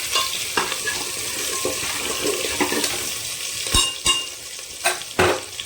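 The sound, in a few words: potatoes frying in oil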